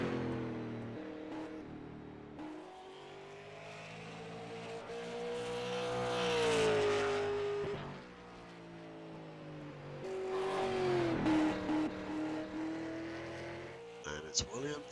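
A super late model race car engine at Nashville Fairgrounds Speedway in the iRacing video game, rising and falling in pitch as it laps, mostly under commentary, with a sharp clack near the end.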